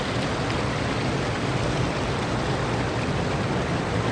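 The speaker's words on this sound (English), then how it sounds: "I'm sitting here getting rained on" Steady, dense rain pours down outdoors beside the Sandy River, a continuous close hiss with no pauses or voices.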